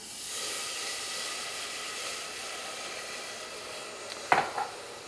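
Turkey stock poured into a hot dark roux in a pan hisses and sizzles steadily, a broad airy steam sound, followed by a brief clatter of a utensil near the end.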